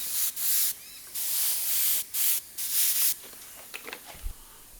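An airbrush sprays paint onto a dragon model in several short hissing bursts, each lasting under a second, separated by brief pauses, close and clear, followed by quiet handling clicks.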